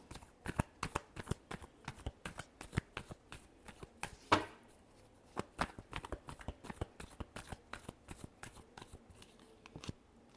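A deck of tarot cards is shuffled by hand in a quiet room, producing a long run of quick, crisp riffling flicks and taps in an irregular rhythm, close and fairly soft.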